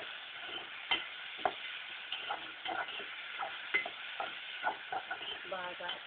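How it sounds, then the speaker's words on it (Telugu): Salted onions frying in a pan until golden brown, a soft, fairly faint sizzle punctuated by irregular sharp clicks and scrapes of a spatula on the pan. "గోల్డెన్ బ్రౌన్ కలర్ వచ్చేలా వీటిని ఫ్రై చేసుకుందాం."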